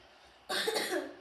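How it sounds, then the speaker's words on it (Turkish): A single harsh cough bursts out after a quiet moment, close and fairly loud, with a rough, noisy tail. "Ondan dolayı birazcık kadar öksürüyorum."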